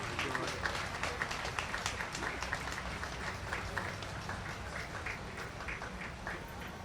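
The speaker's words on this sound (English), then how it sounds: "Round of applause for Pastor John Lewis of the Presbyterian Church." Outdoor audience at a 4th of July patriotic program applauding a church pastor, a fairly faint, even patter of many hands clapping for several seconds with some background noise and murmur.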